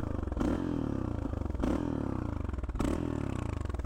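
A 1992 Yamaha XT 600 fitted with a Leovince X3 exhaust, heard with the throttle released: a loud, rapid engine pulse that rattles and crackles, with three regularly spaced louder bursts.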